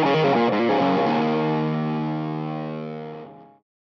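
An electric guitar chord rings through a KHDK Scuzz Box fuzz pedal on a cleaner setting, mildly gritty and sustained, decaying steadily over a few seconds before cutting to silence.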